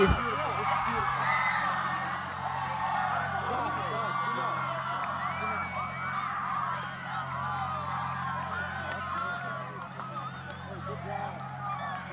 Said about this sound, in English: And the Sanford crowd is going crazy.